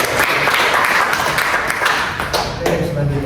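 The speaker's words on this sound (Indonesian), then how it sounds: "boleh tepuk tangan" Small group clapping at the end of a classroom group counseling session, a close, lively burst of applause with some faint talk mixed in and a few louder knocks near the end.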